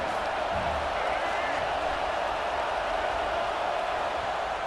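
Dense, steady stadium crowd roar from a college football video game, a continuous wall of noise with no breaks as the offense faces second and goal.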